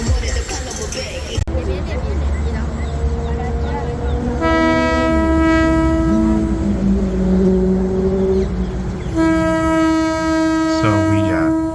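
A local train near Bangkok sounds two long, loud horn blasts with steady tones, the second after a brief gap, over rumbling rail noise and a crowd's background chatter.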